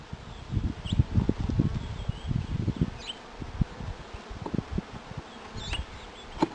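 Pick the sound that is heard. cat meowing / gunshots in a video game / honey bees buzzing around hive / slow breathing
honey bees buzzing around hive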